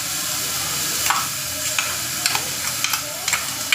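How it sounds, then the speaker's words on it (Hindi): Tomato and green chili paste hits onions frying in a pan, giving a steady, loud sizzle with sharp scraping clicks from stirring scattered throughout. "अब मैं डालने जा रही हूँ इसमें टमाटर और हरी मिर्च का पेस्ट"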